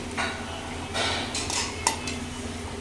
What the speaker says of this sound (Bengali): এখন এই ভেজে রাখা মাশরুমগুলো দিয়ে দেবো